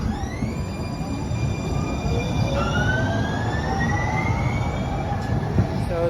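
Atlanta Streetcar, a Siemens light rail vehicle, rolling along Auburn Avenue with a steady rumble and high rising electric whine and squealing tones, constant and fairly close for several seconds.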